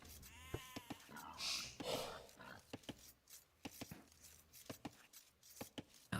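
Sheep bleating in an Age of Empires II match, several short bleats mixed with game effects and chopping clicks, heard under a commentator's talk.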